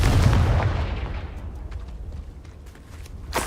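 A fiery Confringo spell from the Hogwarts Legacy video game bursts with a loud boom at the start, then a rumbling blast decays and trails off, with a second sharp crack near the end.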